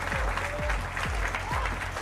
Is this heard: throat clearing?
no